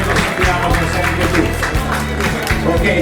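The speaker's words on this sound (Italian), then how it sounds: "Mi sottomarino un applauso." Audience applause at the Miss Grand Prix beauty pageant in Sottomarina, a steady patter of clapping from a crowd, with a voice talking over it throughout.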